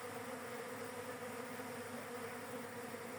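Steady, dense buzzing of many honey bees at a hive, a continuous drone with no breaks and no voices, close and fairly loud.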